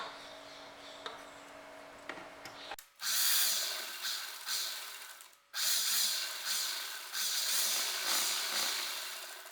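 Sewing machine stitching the side seam of a baby dress, loud close whirring bursts with a brief pause between them, after a quieter opening with soft handling noise.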